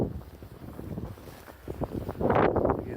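Gusty wind in a heavy snowstorm with about a foot of snow down, buffeting the microphone in rough, uneven bursts that build into a loud, close roar near the end.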